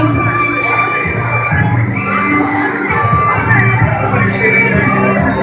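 An audience screams and cheers loudly at a violin performance, with children's shrill shouts and crowd noise rising and falling continuously across the whole stretch.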